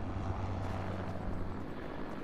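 Helicopter in a video game, a steady, dense rotor and engine drone with a low thudding hum that holds at an even level throughout, no talk over it.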